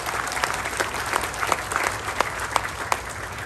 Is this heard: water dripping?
no